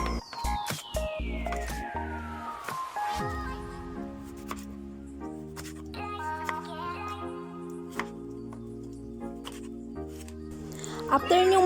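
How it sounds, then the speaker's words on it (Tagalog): A knife works through eggplant on a cutting board with repeated crisp slicing taps, some sharper knocks mixed in, fairly close and moderately quiet. "Ang sunod naman ay ang paghihiwa ng talong."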